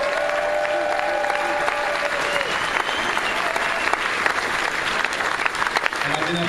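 An audience gives sustained applause for Dave, a dense, even clapping that fills the room close by, with some voices mixed in.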